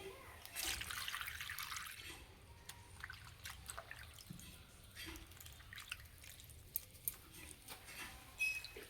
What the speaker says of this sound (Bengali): আর পাতাগুলো ঠিক এইভাবে একটু মেলিয়ে ধুয়ে নেব, তাহলে খুব সুন্দর ধোয়া হবে।